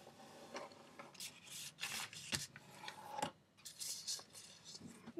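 Paper being folded and creased for an origami bird, soft close rustles and brief rubbing swipes in irregular bursts, quiet with no talk.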